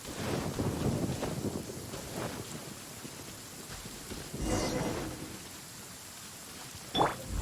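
Rolling thunder and steady rain in the video game Genshin Impact, a low rumble swelling mid-way and a sharp crackling lightning strike near the end.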